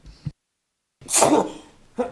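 A single sharp sneeze at a city council planning panel meeting, preceded by a quick inhale and followed by a brief voice.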